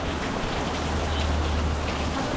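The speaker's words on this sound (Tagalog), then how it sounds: "Inabutan ng ulan." Steady rain falls continuously outdoors, a dense, even hiss with a low rumble underneath and no voices.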